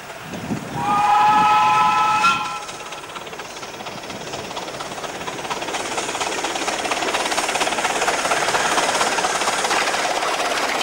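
A Romney, Hythe and Dymchurch Railway train leaves the houses near Palmarsh for open countryside, giving a short whistle blast before settling into a steady, rolling rumble that builds gently over several seconds.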